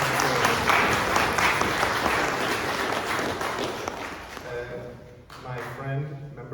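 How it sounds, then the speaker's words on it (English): Audience at a business forum applauds the Lord Mayor, dense clapping loud at first and thinning out toward the end, with a voice coming in over the last seconds. "So can everyone give him a huge round of applause?"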